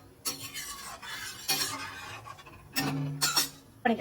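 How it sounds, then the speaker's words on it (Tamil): A spoon stirs vegetable rice in a cooking pot, giving several short scraping and clinking bursts against the metal at close range, with pauses between strokes and no voices. "நல்லா மிக்ஸ் பண்ணிக்கலாம்"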